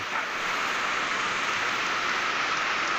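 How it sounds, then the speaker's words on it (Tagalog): Steady, dense hiss of rain falling on a hut in the mountains, unbroken and fairly loud throughout, with no talking. "umuulan ngayon dito sa amin sa kubo"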